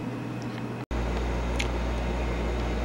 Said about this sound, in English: Sorry about the air conditioner noise.